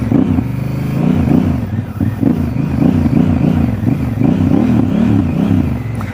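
A motorcycle engine revved in repeated swells under clutch control, the note climbing and dropping in a rhythmic pattern of surges, loud and close with no talk.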